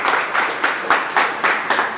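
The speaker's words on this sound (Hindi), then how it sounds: "एक बार जोरदार तालियां इस व्यवस्था के लिए आपको दें।" A crowd at a Hindi poetry recital in Kashi claps loudly and close in a strong, regular rhythm of roughly four beats per second, with no talk over it.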